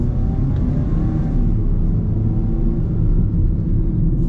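A 2020 MG3 small hatchback accelerating, heard from inside as a steady, loud low engine drone and road rumble that holds even throughout with no talking.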